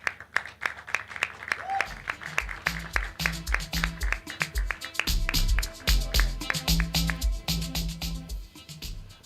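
A conference audience at the West African Young Leaders Conference 2023 claps to welcome a speaker onto the stage. The sharp, fairly regular claps ring out over music with deep bass notes, building slightly toward the end.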